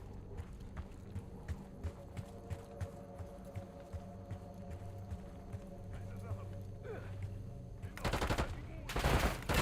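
Gunfire exchanged in a shooter video game, a run of rapid repeated shots under game background noise, building to a louder, denser burst of fire near the end.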